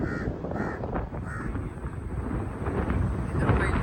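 A crow caws in several short, raspy calls outdoors, fairly faint against heavy wind rumble on the microphone.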